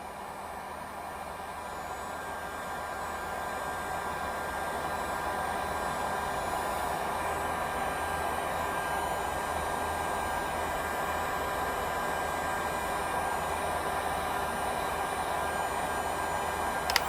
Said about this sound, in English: I'm putting this heat gun on low.